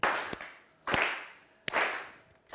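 Three slow, sharp, isolated claps with echoing tails, spaced almost a second apart, play as a deflated applause sound effect on a Turkish word game show.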